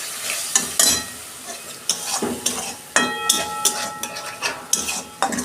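Eggplant frying in a pan with a little Kashmiri chili powder and a splash of water, close and steady sizzling broken by repeated scraping and clinking of a spatula as it is stirred.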